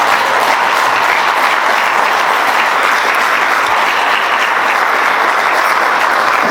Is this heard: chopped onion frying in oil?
no